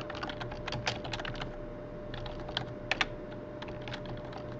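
Steady typing on a computer keyboard, including tab key presses, with quick, uneven clicks and a few sharper, louder taps, close by against a low background hum.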